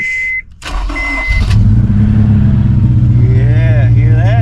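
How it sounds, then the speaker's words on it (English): Cold start of a 2006 Honda S2000 AP2: a brief starter whine, then the engine catches and settles into a loud, steady high idle close by, with a person speaking briefly. "All right, let's do a cold start so I can show you."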